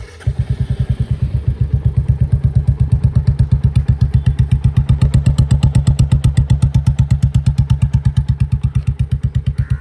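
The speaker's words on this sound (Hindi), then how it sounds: "बाइक जो साउंड करती है वो साउंड करती है कुछ इस तरह से।" A Royal Enfield Standard 350 motorcycle idling close by, its single-cylinder engine giving a loud, deep, evenly paced thump with a slight mechanical clatter, running steadily without any talking.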